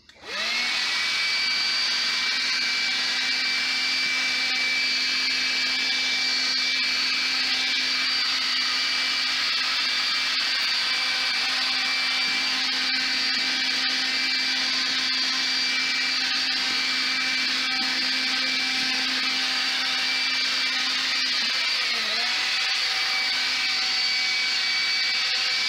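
Milwaukee M12 compact cordless vacuum on a heavier-duty battery picks up wood chips, a loud steady motor whine with a high airflow hiss running throughout, dipping briefly in pitch near the end.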